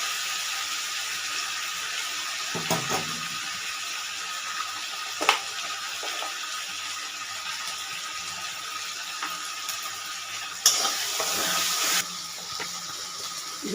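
Ginger paste frying in a pan for a chicken dish, a steady broad hiss of sizzling oil running throughout, with a few soft clicks and taps of a utensil against the pan.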